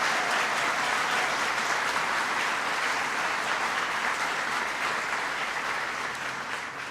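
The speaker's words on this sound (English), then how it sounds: "Please give them a big round of applause." A crowd applauds members of Congress at a Hudson Valley Community College event, a dense, steady wash of clapping sustained for about seven seconds and easing off slightly toward the end.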